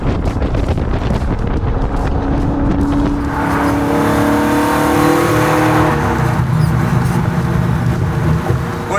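A Roadster Shop Camaro with a 750-horsepower naturally aspirated V8 roars loudly while driving, the engine climbing in pitch as it revs hard and then settling into a deep rumble, with heavy wind noise throughout.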